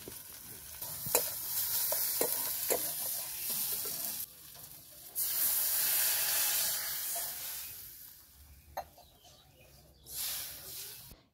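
Ground spice paste with turmeric, chili powder and salt frying in a kadai, a loud steady sizzle broken by repeated scraping stirs, with short quieter gaps between bursts.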